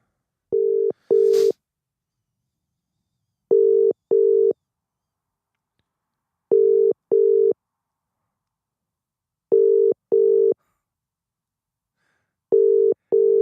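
Outgoing telephone call tones during a live phone-in show: paired ringback beeps repeat about every three seconds, loud and clean against silence, with a brief click near the start.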